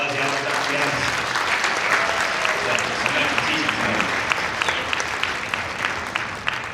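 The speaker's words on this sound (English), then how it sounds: "We can give him a big thank you and round of applause." A band concert audience applauds for Dr. Yakas, dense, loud and continuous clapping filling the room, with faint crowd voices mixed underneath.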